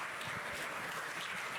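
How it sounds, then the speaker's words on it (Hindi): Steady clapping from an audience at the launch event of a television serial, a dense, continuous patter that holds at an even level for the whole short stretch with no voices over it. "तालियां बजा दीजिए यार"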